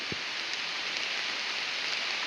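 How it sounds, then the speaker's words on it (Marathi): Heavy rain pours down outdoors in open fields, a dense steady hiss with no break throughout. "दादा चांगला पाऊस येतोय"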